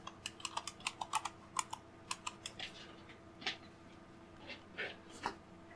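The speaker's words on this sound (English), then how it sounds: "And then we need to type it again." A password is typed on a computer keyboard in a quiet room, a run of soft, close key clicks with uneven rhythm and short pauses, no talking.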